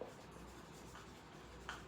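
A pen or chalk writes notes on fertilization types during a class lecture, a faint, close scratching that continues steadily.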